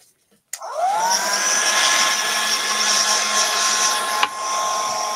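Blower switched on to dry the surface of a model waterway, starting with a click and a rising whine, then a steady loud whooshing hum that holds for several seconds with a brief knock near the end.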